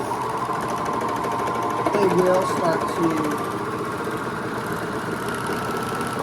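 A Bernina sewing machine stitching a tote bag seam, giving a steady, rapid mechanical whirring hum with fast rhythmic needle clatter, close by, with a brief faint voice in the middle.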